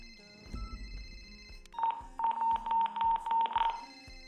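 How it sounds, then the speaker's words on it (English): A phone rings in a steady series of electronic trill bursts with a tonal beep repeating underneath, loud and close, following a short rustle and thump at the start. "Did you not hear me over the phone ringing and the beepity beats?"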